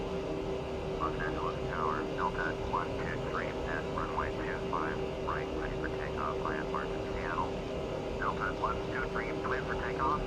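Steady airliner engine hum from an Airbus A320 in Microsoft Flight Simulator X, a constant low drone with a fixed tone, running quietly under scattered chirpy interface or radio sounds throughout.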